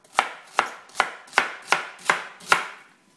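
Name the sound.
knife roughly chopping celery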